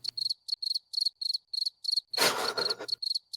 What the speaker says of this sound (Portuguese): Inseto.